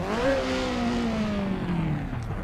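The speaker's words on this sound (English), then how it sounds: "Everyone's revving up." Race cars revving on the starting grid at the Nürburgring Nordschleife in a racing video game, several engines rising and falling in pitch together, loud and continuous with no talk.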